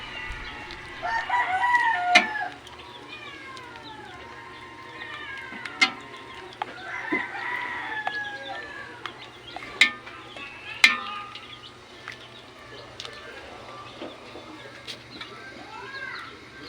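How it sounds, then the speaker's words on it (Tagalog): Pet chicks peeping and a mother hen clucking, with repeated high chirps and louder bursts from the hen, close by over a low background hum, with a little talk in places. "So ayan yung aming mga alagang sisiyo na 17 piraso yan kasi tatlo po yung kanyang nanay"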